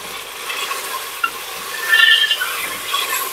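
Whole spices and cumin seeds (black peppercorns, cloves, black cardamom, mace) frying in oil for an aloo mutton curry, a steady close sizzle with a brief clink near the middle and a louder crackling swell toward the end.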